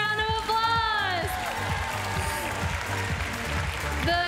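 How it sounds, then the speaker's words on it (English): Audience clapping at a Minecraft convention costume contest, sustained applause under music with tonal sweeps, with a voice and crowd noise mixed in. "Give her a huge round of applause."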